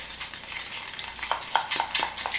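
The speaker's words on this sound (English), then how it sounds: "Mix that up with our sugar and butter." A spoon stirs egg, sugar and butter in a mug, making short, quick scraping and clinking strokes up close.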